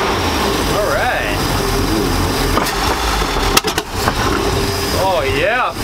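An outdrive boat engine under restoration runs steadily, then is shifted into gear with a brief clunk and a change in engine note, while someone talks over it.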